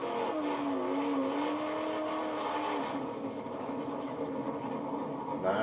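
1969 Camaro race car driving, a continuous engine roar that rises and holds, then eases, heard from a moderate distance with some crowd noise.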